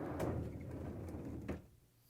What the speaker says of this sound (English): To get to the part, we need to open the freezer door.